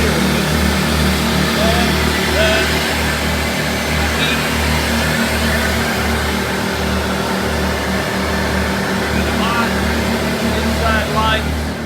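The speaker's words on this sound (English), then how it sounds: "3 generators, parallel to my trailer." Three Harbor Freight Predator 2000 watt generators run in parallel, feeding a trailer, giving a steady, loud engine drone with a low hum throughout, while a person speaks over it.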